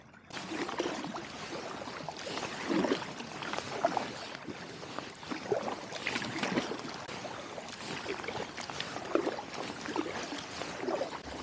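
Paddle strokes from a solo kayak on a river splash and drip in an irregular rhythm close by, with water trickling and sloshing softly between strokes and nobody speaking.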